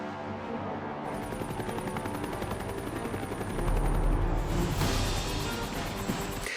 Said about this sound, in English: So the first chopper that you see, it needs better sound.